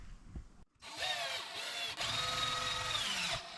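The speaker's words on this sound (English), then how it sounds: "then get the screws in from the sides" A power screwdriver drives screws into the side case panels of a Phrozen Sonic Mighty 4K resin 3D printer, two close buzzing bursts of whirring motor after a brief quiet gap, no voices.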